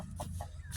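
A domestic chicken gives a few short, close clucks in quick succession, with no talking.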